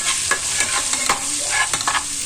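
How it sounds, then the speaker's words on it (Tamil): Bay leaf, cardamom, three cloves, curry leaves and ginger sizzle in hot oil for beef biryani, with steady frying crackle and a few stirring scrapes of a spoon in the pan; no talk. "பிரியாணி இலை, ஏலக்காய் 3, கிராம்பு 3, கருவேப்பிலை 2 துண்டு சேர்த்து இஞ்சியும் சேர்த்து நம்ம பரட்டிக்கலாம்"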